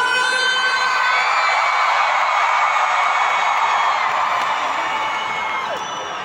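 A big concert crowd screams and cheers for a pop group at the Fiestas de Octubre in Guadalajara, a loud, steady, high-pitched roar that holds for the whole stretch and eases slightly at the end.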